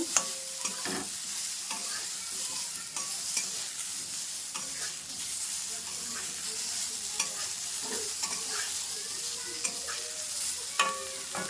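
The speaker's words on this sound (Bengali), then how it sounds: "আমি একটু হালকা করে ফ্রাই করে নেব" Vegetables fry lightly in a pan with a little butter and no oil. A continuous, moderate sizzle is broken by frequent scraping and clinking from stirring. No one speaks.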